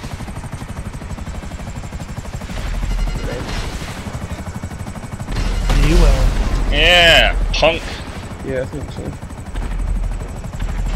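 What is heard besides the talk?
helicopter flying in video game GTA V Online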